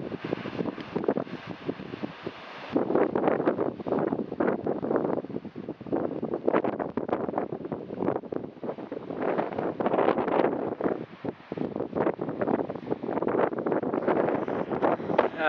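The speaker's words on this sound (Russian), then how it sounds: "Ветер сильный" Strong wind buffets the microphone on a stormy seashore at Anapa, a constant loud roaring rush that surges and gusts throughout with no talking.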